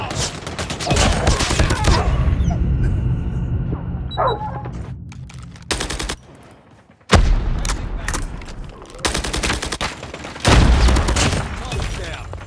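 KN-44 assault rifle bursts in Call of Duty Mobile, loud sustained automatic fire in several long volleys separated by brief pauses, with game voice lines and mechanical clicks between bursts.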